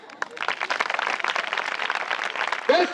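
An audience at a Christian prayer festival claps in a dense, steady burst of applause that carries on for several seconds and then fades out at the end.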